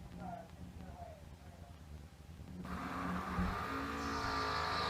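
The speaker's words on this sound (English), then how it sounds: "Here comes that burnout." A drag racing car at a World Wide Technology Raceway event does a burnout, its roaring engine and tire noise swelling loud and sustained after a quieter stretch, with an announcer talking over it.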